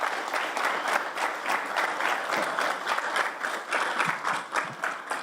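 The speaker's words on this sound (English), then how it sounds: "if everybody can give the family members a round of applause" Steady applause from an audience at a sheriff's office academy graduation ceremony, sustained and dense for several seconds, honoring the graduates' family members.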